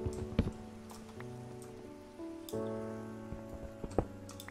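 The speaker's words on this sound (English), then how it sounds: "Oh, it's raining! Look at that!" Steady rainfall in the video game Minecraft, a continuous soft patter that runs for several seconds alongside tonal in-game music.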